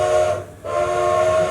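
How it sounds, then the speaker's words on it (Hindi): Steam locomotive whistle used as a stage sound effect in a theatre play: one long, loud sustained tonal blast with a brief dip midway, steady hiss underneath, no talk. "ड्राइवर इंजन की सीटी बजाता है,"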